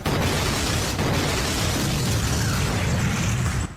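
Dust in the air ignited by a lighter erupts into a huge, roaring blast, a loud sustained broadband roar that fills the whole moment before cutting off abruptly.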